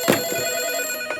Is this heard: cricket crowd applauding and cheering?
no